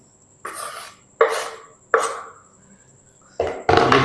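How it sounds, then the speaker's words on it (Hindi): Onions being chopped with a knife on a board, five separate close slicing strokes with short pauses between them, the last ones quicker and heavier. "अब हम प्याज भी कट कर लेंगे।"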